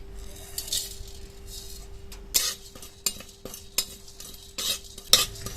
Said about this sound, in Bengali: এর মধ্যে কিছু গোটা মশলা ভেজে নেব। দারচিনি, লবঙ্গ আর জিরে আর গোলমরিচ।